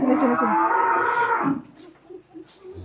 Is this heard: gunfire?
no